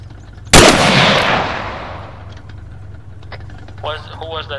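A single loud rifle shot rings out close by in a World War II battle game, then its echo and rumble decay over a second or two before a voice speaks.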